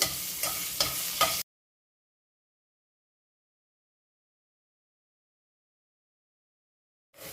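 Garlic sizzles in hot oil for tempering, a short close crackle with a few stirring pulses that cuts off abruptly into silence.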